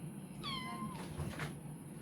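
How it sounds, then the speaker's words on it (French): A house cat lets out a single clear, close meow that rises and falls, heard indoors over a low steady background hum. "je suis attaqué par le chat"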